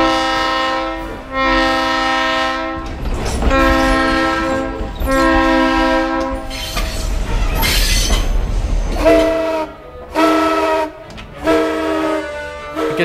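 Steam trains moving during a symphonic concert event, with long tonal horn and whistle blasts sounding repeatedly over a rumbling, hissing locomotive, loud and close throughout.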